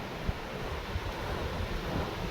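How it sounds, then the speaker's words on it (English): Gentle ocean waves washing at the water's edge on a clouded-over shore along the NC500 route, a steady close wash of surf mixed with wind buffeting the microphone, no talking. "Just some gentle waves."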